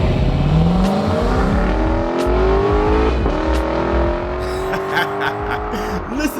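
A 2023 Lexus LC 500h hybrid V8 coupe engine revs up and down in long rising sweeps, loud and close, with a smooth growling tone.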